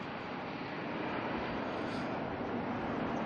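An ATR turboprop airliner with its propellers turning, coming in to land at Auckland Airport, gives a steady, broad roar that holds at an even level throughout.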